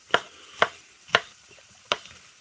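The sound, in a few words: chopping mushrooms with a knife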